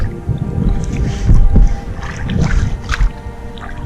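A rowboat is rowed with oars on a river with a slight current under light rain, giving irregular splashes, knocks and creaks near the microphone with no clear talk.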